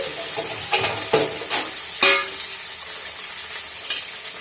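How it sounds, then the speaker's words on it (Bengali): Flat beans and potatoes frying in a pan give a steady close sizzle, with a few sharper clinks and stirring scrapes rising above it and no one speaking. "এটা সিমটা ভাজা, সিম আলু ভাজা"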